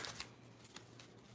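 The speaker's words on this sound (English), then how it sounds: "Let's shuffle 2 more times." Tarot cards being shuffled by hand, a quick, soft riffling with a few sharper flicks, close and quiet.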